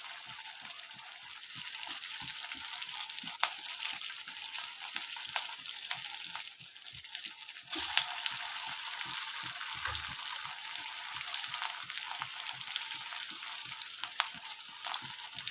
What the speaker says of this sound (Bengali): তেলও দিয়ে দিয়েছি। এবার যে কোপ্তা কারিগুলো সেগুলোকে ভেজে তুলব